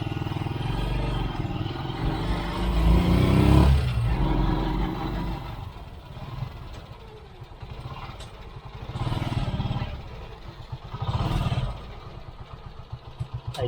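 A motorized tricycle's engine runs close by on a ride to Ilagan Sanctuary, a rough putter swelling into several revving surges, with clattering and occasional voices underneath.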